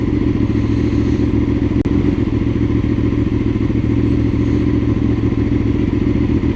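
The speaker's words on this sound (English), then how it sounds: "I was holding the clutch full in and just started dropping gears and then it stalled" A motorcycle engine runs steadily and loud throughout as the rider drops gears with the clutch held in, a single clunk near the middle, with no clear cut-off where it dies.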